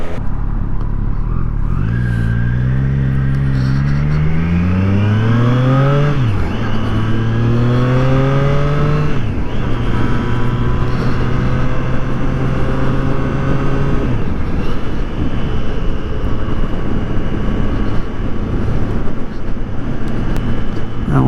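A Triumph 765 Street Triple RS motorcycle engine revs up in rising climbs and shifts, then settles into a steady loud drone while riding. It is close and constant, with no speech.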